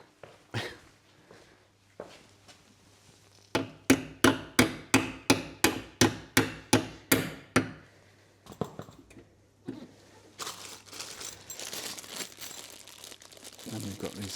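A hammer taps repeatedly on a plastic rear wheel arch being fitted to a Land Cruiser, about a dozen sharp, evenly spaced knocks close by, followed by scattered handling clatter and rustling.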